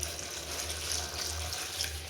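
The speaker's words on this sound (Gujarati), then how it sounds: "ને હવે પાણી નાખી દઉં" Water pours steadily into a pot of Birbal khichdi (rice and lentils) in a home kitchen, a continuous close rushing splash lasting the whole moment with no talking.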